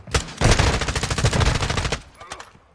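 Incendiary-round gunfire in Fortnite: a loud, rapid automatic burst of shots rattles for over a second, then trails off into a few scattered, fading reports.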